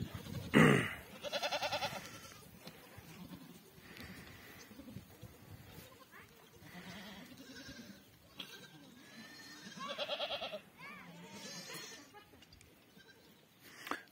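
Young goat kids bleat around the pen on a goat farm, with several loud, near cries and quieter, more distant bleats repeating across the clip, and some faint voices in the background.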